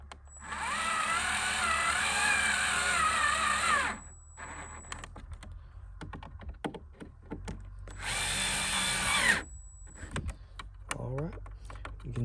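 Power drill driving screws back into a panel on a 2018–2022 Toyota Rav4 during a sequential turn signal install: two close, whining bursts, one long and one shorter, separated by clicks and handling noises.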